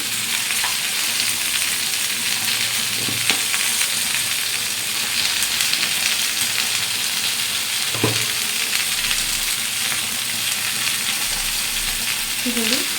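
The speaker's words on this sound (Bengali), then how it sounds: "একটু সবজিটা হালকা হালকা ভেজে নেব" Vegetables fry lightly in a pan in a home kitchen with a continuous loud, close sizzle throughout and a few brief clinks of stirring.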